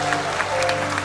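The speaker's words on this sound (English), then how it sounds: "Everybody give Hudson a round of applause." A cruise ship show audience claps briefly after a magic and comedy act, a short, steady burst of applause over a low hum.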